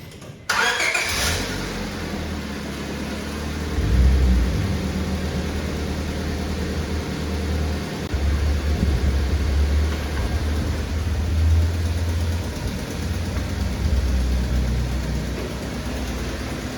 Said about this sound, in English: So now we're gonna start it up and we're gonna let it warm up just a little bit